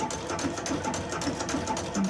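A sewing machine runs steadily with a flower stitch foot attached, its close, continuous mechanical whirr holding even without pause and no voices over it.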